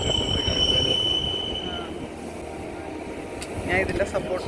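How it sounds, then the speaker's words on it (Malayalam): Mountain train climbing through the Swiss Alps, with high metallic wheel squeal ringing over a steady rolling rumble, then a brief clunk and a fresh burst of squealing near the end. "നമ്മുടെ ട്രെയിനിൽ ഇങ്ങനെ കയറി കയറി മുകളിലോട്ട് പോയിക്കൊണ്ടിരിക്കുക"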